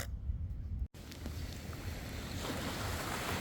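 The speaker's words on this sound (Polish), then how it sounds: "Patrzcie, jak woda ładnie zmywa piasek tutaj." Steady rushing of waves washing over sand on a Bali beach, with broadband wash and wind buffeting the microphone; a brief dropout early on, no voices.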